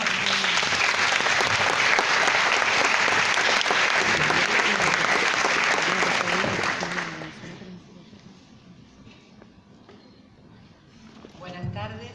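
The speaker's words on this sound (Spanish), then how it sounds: "Le damos un fuerte aplauso a todos." An audience at a Tourette syndrome awareness talk gives sustained, loud, close applause for the speakers, which fades out after several seconds, leaving quiet room sound with faint murmurs.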